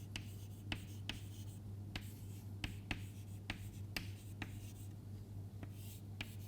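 Chalk or marker strokes on a board while a lecture on transistors goes on, a series of sharp taps and scrapes spaced irregularly over a steady low hum, no voice.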